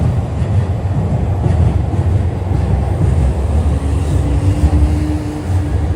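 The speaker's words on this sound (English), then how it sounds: "Check out the train above." A train rumbling along an elevated track overhead on a Tokyo street in the morning, a loud steady low roar filling the whole stretch with a faint whine midway.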